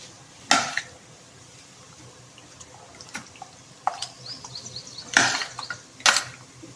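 Garam masala is stirred into a pan for Moghlai biryani with country chicken and coconut milk. A few sharp metallic scrapes and clanks stand out over a quiet, low cooking hiss.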